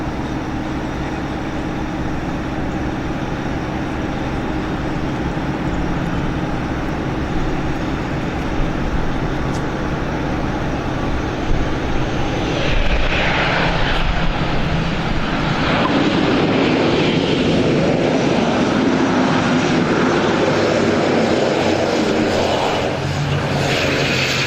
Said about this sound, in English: One of Liat's new planes, the ATR